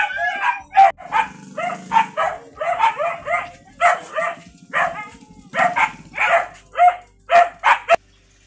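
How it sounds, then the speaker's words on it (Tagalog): Several dogs at a home in Zamboanga, Philippines bark loudly and close by in repeated rapid bursts, with some yips and whimpers mixed in and short pauses between volleys. "pag andito yung mga uuwi si Chris, ganyan kaingay ang mga aso"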